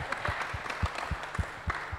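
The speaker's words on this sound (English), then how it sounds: "Everyone, let's just give a round of applause for Pete for using his paddle." An audience at a Pause Fest 2015 business talk applauds Pete, a steady wash of clapping with a few sharper, louder claps standing out, and no one speaking over it.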